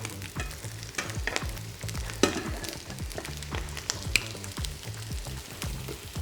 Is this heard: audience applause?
no